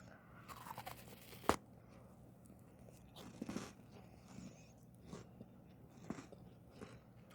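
Someone chews melted, sticky candy that starts slightly crispy, close to the mic, with a sharp crunch early on and then softer, scattered, wet chewing sounds over quiet room noise.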